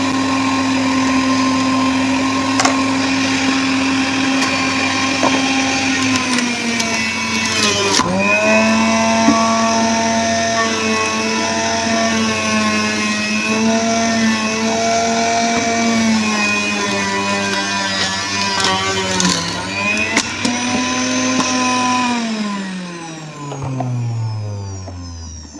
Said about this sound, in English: for the centrifugal juicer, it's quite loud